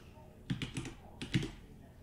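Fingers type a name on a computer keyboard in two short quick bursts of clicking keys. The bursts are close and fairly quiet and are separated by a brief pause.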